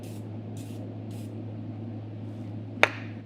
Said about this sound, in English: that's how much I would spray on if I was gonna use glass cleaner as anti-spatter